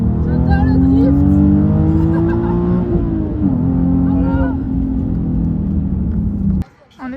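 Nissan 370Z Nismo drifting on a race track at Croix-en-Ternois, its engine holding a loud, steady high-revving drone with rising pitch for several seconds, then cutting off abruptly near the end.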